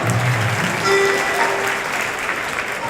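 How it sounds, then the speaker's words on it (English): Sustained applause from an audience at an Indian community organization event, dense and steady from start to finish at moderate loudness, with no voices standing out. "Give them a big round of applause for coming out"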